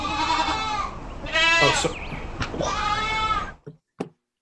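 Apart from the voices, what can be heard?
goats bleating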